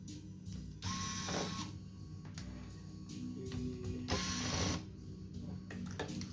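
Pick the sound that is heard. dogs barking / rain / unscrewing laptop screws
unscrewing laptop screws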